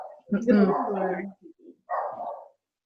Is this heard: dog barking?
yes